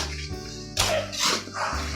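Dogs bark near a house construction site, giving a few short, loud close barks and yelps spread over about two seconds with no talking.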